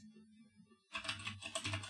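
Rapid keyboard clatter from a computer keyboard while CSS code is written, a quick run of close, crisp keystrokes after a short quiet stretch.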